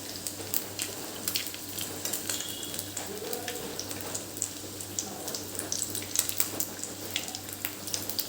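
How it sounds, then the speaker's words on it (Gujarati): Cheesy vegetable noodle spring rolls deep-fry in hot oil with a soft, steady sizzle and scattered light crackles and pops, fairly quiet and close, with no talking. "બીજા પણ બધા આ રીતે આપણે તળી લેવાના"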